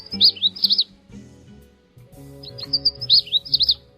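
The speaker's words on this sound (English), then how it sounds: "Our bird's common name in French is Paroline du Canada. Its scientific name is Cardellina canadensis." Canada warbler (Cardellina canadensis) song: two bright bursts of rapid, jumbled, high chirping notes, separated by a short pause, with a low steady tonal hum underneath.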